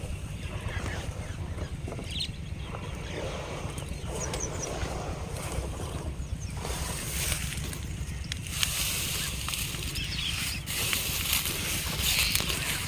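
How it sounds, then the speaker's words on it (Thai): A Thai i-taen farm vehicle engine chugs faintly and far off beside farm fields where water is being pumped, a low steady rhythmic putter under wind and outdoor ambience, with no talk. "ก็จะได้ยินเสียงนกกับเสียง รถอีแท็กเป็นแว่วๆค่ะ"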